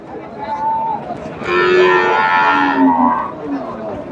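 Cows moo at a busy cattle market, with a few drawn-out calls rising over steady crowd chatter and nearby talking.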